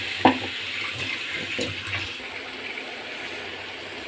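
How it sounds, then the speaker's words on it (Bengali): Water is poured over spiced chicken masala being fried in a cooking pan, a soft steady splash and bubbling hiss after a sharp initial clank, with no voices. "এইটার উপরে একটু পানি দিব।"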